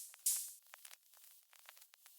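Very quiet layered cassette hiss and vinyl crackle samples, a soft high-pitched noise bed dotted with small pops and ticks, plus one brief louder crackle near the start, with no other sound.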